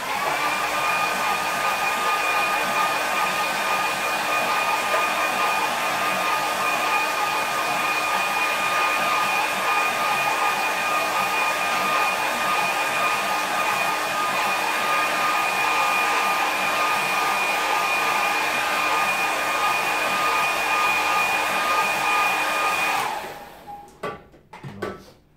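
A hair dryer blows steadily at close range over clipped watercolour paper, a loud continuous whine and rush that runs without a break before switching off near the end with a few small handling clatters.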